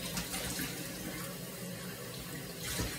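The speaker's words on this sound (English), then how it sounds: "So I'm just gonna start rinsing it out." Tap water runs steadily over a hamster's plastic food bowl being rinsed out in a sink, a continuous close splashing rush that swells slightly near the end.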